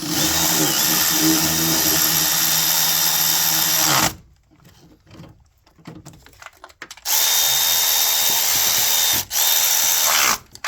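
A 2014 Chrysler 3.6L Pentastar V6 idles loudly up close with a fast mechanical tick running through a dense hum, cutting out briefly twice before resuming.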